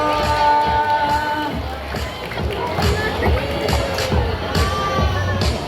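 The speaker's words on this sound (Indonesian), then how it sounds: "Boleh dong semuanya tepuk tangan yang meriah buat singa laut kita di sana." An audience at a sea lion show in a theme park claps and cheers, a busy crowd roar with children shouting and scattered clapping, steady and fairly loud, while a presenter speaks over it.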